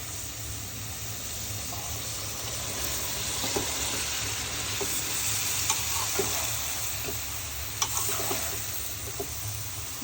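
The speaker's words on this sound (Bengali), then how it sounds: "আমি এখন 2-4 মিনিট ধুন্দলগুলো কষিয়ে নিব" Sponge gourd pieces sizzle steadily as they are stir-fried with spices for a shrimp curry, a continuous close frying hiss with occasional soft stirring clicks and pops throughout.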